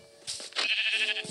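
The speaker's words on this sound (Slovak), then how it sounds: "Ovca." Sheep bleating in the Minecraft video game, a few short nasal bleats in quick succession, close and fairly loud with no talk over them.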